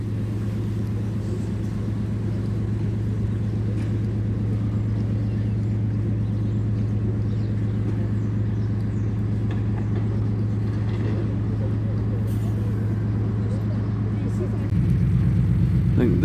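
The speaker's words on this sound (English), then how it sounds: "The bus getting loaded on." A coach rumbles steadily up a loading ramp onto a ferry bound for the Isle of Lewis at Ullapool, a low continuous engine drone with a brief louder surge near the end.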